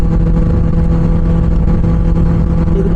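A Benelli 600i superbike's exhaust drones loud and steady throughout, a close, continuous low engine rumble with no pauses.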